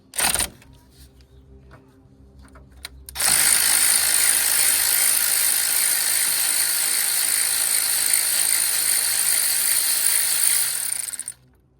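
Ratchet turning steadily to loosen bolts while removing the alternator from a 1993 Ford Taurus 3.8, a brief clatter first, then a loud continuous close-up clicking run of about eight seconds that stops abruptly.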